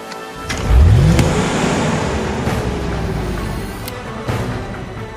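A getaway car engine revving hard as it pulls away, a loud rising whine that climbs quickly and then settles into a sustained roar with a few sharp knocks and bumps along the way.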